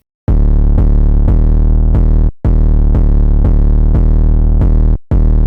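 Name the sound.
Behemoth 808 bass from Terminus 808 kit, FL Studio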